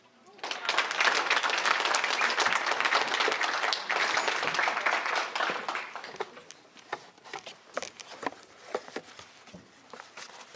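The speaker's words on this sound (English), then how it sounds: "we can still give her a round of applause" An audience at a live fitness awards event applauds for an award winner who is not present. The dense, lively clapping thins after about six seconds into scattered claps and stray noises.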